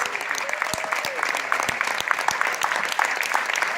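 A crowd in Queensbridge gives a round of applause for community members called forward, brisk clapping with sharp individual claps near the front and some voices mixed in.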